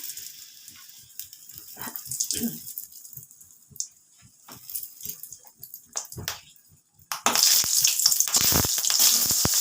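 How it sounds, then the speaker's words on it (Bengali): A dried red chili tempering in hot oil in a home kitchen, with sparse, soft crackles and pops that swell into a loud, steady sizzle near the end, close and without speech. "প্রথমে একটা শুকনো লঙ্কা ফোড়নে দিলাম।"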